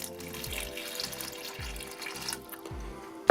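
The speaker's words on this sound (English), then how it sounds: "and then we'll put some water in." Water runs from a tap and pours steadily into a tank with a gurgling splash, fairly quiet, with no talking.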